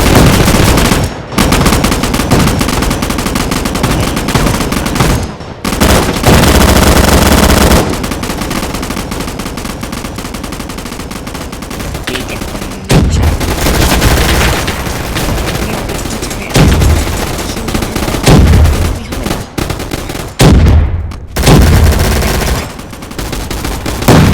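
Roblox game gunfire rattles in long, loud automatic bursts nearly without pause, broken by a few brief silent gaps.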